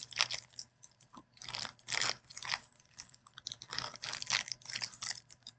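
Someone chews a crispy, crunchy peanut butter candy bar up close, giving a run of sharp crackling crunches in an uneven rhythm, loud against a quiet background.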